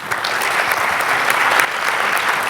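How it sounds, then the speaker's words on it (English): Steady, dense applause from a large audience at an international awards ceremony, loud and sustained with many hands clapping together and no talk over it. "Let us all give them another big round of applause."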